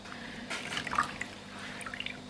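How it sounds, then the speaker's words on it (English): Hot water splashing and dripping while a face mask is rinsed off, a few close trickles and small pours with scattered drips over a quiet background. "So I'm going to take it off with hot water."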